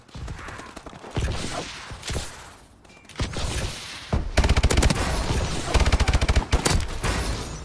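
Grenade launcher fire and explosions in a Call of Duty Advanced Warfare multiplayer match, loud bursts of rapid shots and blasts coming in clusters with brief pauses between, close and dense.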